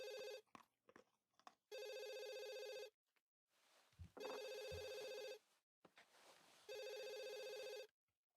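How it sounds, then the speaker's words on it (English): Telephone ringing in The Sims 3 Pets on Xbox 360, repeated bursts of an electronic ring, each about a second long with short gaps between them, mixed with other soft game sounds. "Get up and answer the phone!"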